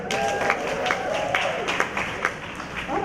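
A film festival audience in Decatur, Georgia claps steadily through the whole stretch, with scattered louder hand claps standing out over a murmuring room and some voices mixed in.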